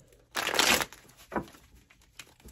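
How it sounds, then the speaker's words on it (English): A short burst of tarot cards being riffled and shuffled close by, followed by a couple of softer rustles, fairly quiet overall. "shuffling these. The cards feel beautiful."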